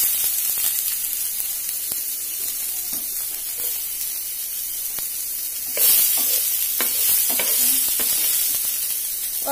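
Onions frying in oil with mustard seeds, a loud continuous sizzle close up with small crackles and scraping stirs that flare louder partway through.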